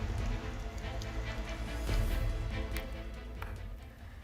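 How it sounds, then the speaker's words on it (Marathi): Heavy monsoon rain falls steadily in Maharashtra, a soft continuous patter of drops on surfaces, fairly faint and unbroken throughout with no talking. "काल संध्याकाळपासून राज्याच्या अनेक भागात मुसळधार पाऊस पडतोय."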